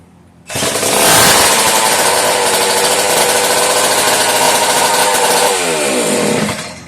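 A Homelite 150 chainsaw engine, running on its own fuel supply, snarls loud and close at a steady high rev for several seconds before dropping off abruptly at the end.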